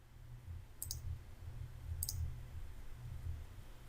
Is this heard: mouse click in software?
yes